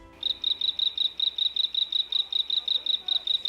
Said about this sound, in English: You may think that frogs croak, but he sort of chirps.